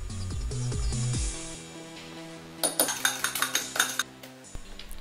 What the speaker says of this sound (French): on va mélanger tout ça, 5 petites cuillères de crème fraîche, on va remélanger le tout ensuite